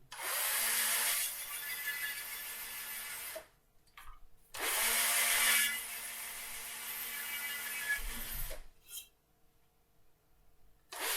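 Two long bursts of a power drill boring 2mm pilot holes through a wooden toy train front window panel, each run loud and steady with a brief pause between, then a shorter spin near the end.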